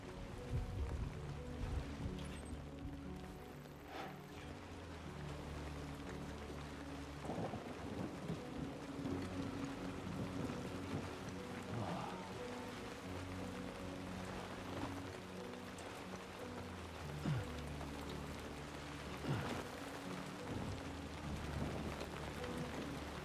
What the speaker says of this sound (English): Rain was really bad in Death Stranding.